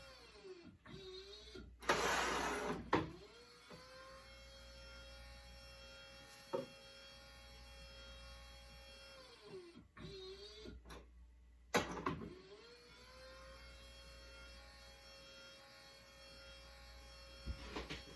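An automatic honey bottling machine filling jars runs with a steady mechanical whir, broken by repeated pauses and clunks as each jar fills, close and clear with no talking.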